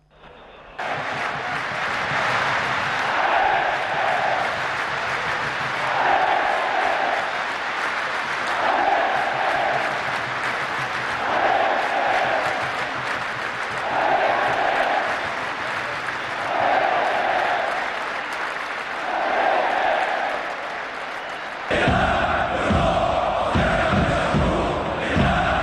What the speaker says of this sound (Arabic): يلا نسمع الجماهير